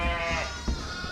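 A tame ewe that has recently lambed bleats in a farm setting at night, one clear, wavering call close by with a soft bump partway through.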